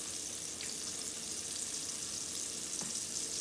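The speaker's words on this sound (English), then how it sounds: "brown them on both sides" Cube steak browning in a frying pan, giving a steady, even sizzle that is faint and continuous, with no voices.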